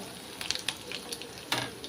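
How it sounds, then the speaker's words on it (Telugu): Crackling, sizzling food frying in hot oil, with a few louder spits and pops over a steady hiss, close by. "వీటిని కూడా మనం వేయించుకోవాలి"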